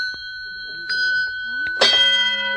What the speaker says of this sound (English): It rings a bell every time an egg is laid.